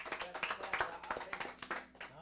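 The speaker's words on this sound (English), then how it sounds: "Clap it up." A small audience at a live music lounge claps in scattered, uneven bursts, fairly faint and close, with people talking over the clapping.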